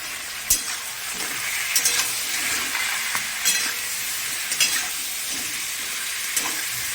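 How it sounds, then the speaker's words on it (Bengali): Potatoes fry in a pan with a continuous close sizzle, broken by repeated scrapes and light metal clinks of a spatula stirring at irregular intervals, no voices. "আর এদিকেও আমার আলুটা ভাজা হচ্ছে।"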